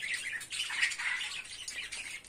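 Pet finches and cockatiels chirp and tweet in bright, overlapping bursts, fairly close and moderately loud.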